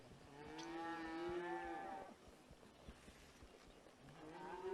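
Cattle in a herd moo, one long low bellow up close followed by quieter shuffling and another moo starting at the end, with no talking.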